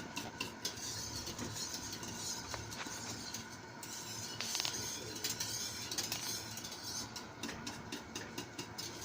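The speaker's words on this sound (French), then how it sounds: "Là, je touille hein, jusqu'à ce que ça cuit comme il faut." A utensil stirs an egg flan custard mixture in a cooking pot, giving repeated scraping and light metallic clinks in an uneven rhythm, close and fairly quiet over a low steady background hum.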